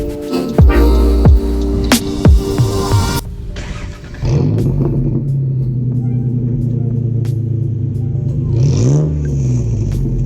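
A lifted Ford Ranger truck engine after a warm start at a gas station, rising in a loud rev, then settling into a steady close idle rumble with a second brief rev near the end.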